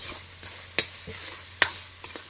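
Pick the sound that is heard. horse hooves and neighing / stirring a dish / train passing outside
stirring a dish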